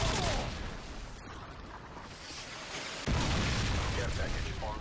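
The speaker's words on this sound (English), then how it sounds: "Predator missile inbound." Predator missile strike in Call of Duty: Modern Warfare 2 multiplayer on Xbox 360, with a broad rumbling blast and crackling debris under scattered distant gunfire and background talk, then a second heavier burst near the end.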